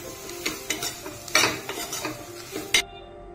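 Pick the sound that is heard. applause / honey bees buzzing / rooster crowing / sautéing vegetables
sautéing vegetables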